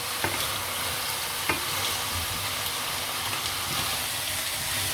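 Garlic sizzling and crackling in a hot pan, a steady frying hiss with a couple of small sharp pops.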